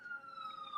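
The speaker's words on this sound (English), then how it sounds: "I've got some sirens in the background" A wailing emergency siren drifts slowly downward in pitch, steady and sustained, sounding distant in the background with no other sounds over it.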